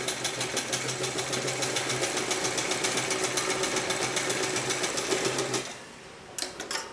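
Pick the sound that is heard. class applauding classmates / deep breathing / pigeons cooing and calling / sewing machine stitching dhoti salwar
sewing machine stitching dhoti salwar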